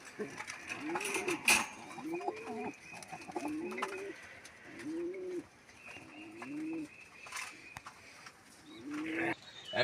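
Pigeons in a loft coo in a steady series of low rolling calls, repeated roughly every second, with occasional clatter and sharp bird sounds in the background.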